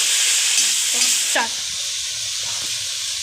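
Ginger, garlic and onions frying in a pan and being stirred, with a loud hiss that eases off and a few close scrapes and clanks of a utensil.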